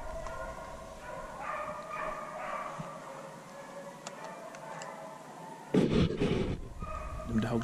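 Pack of beagle hounds bays while chasing deer on a hunt, a chorus of distant yelping and howling that carries on throughout, fairly faint, with a louder burst of noise near the end.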